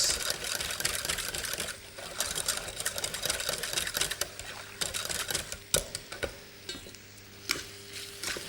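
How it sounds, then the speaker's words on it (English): A whisk scrapes and clicks rapidly in a pan as milk is worked into butter and flour for a white sauce, a busy rhythmic stirring with faint sizzling, close and alone. "we want to whisk that milk into our butter and flour so it will not have any lumps"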